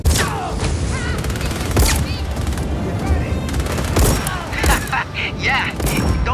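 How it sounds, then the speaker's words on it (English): Cannons and gunfire booming in Just Cause 4, a dense barrage of loud blasts and rattling shots throughout, with a voice talking beneath the chaos. "those cannons gunning for them"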